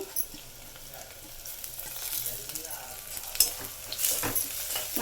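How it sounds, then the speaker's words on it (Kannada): Ground chili-garlic paste fries with field beans in a pan, a continuous close sizzle broken by scraping stir strokes and a few sharper clicks of the spoon against the pan. "ಮತ್ತೆ ಮಿಕ್ಸ್ ಮಾಡ್ಕೊಳ್ಳೋಣ ಇದು ಸ್ವಲ್ಪ ಹಸಿ ವಾಸನೆ ಹೋಗೋವರೆಗೂ ಬಾಡಿಸ್ಕೊಳ್ಳೋಣ"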